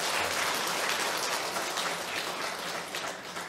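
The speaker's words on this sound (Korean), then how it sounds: "우리 환영의 박수로 좀 보내드리기 바랍니다." A church congregation applauds visitors with dense, continuous clapping that fills the room at a steady level and eases slightly toward the end.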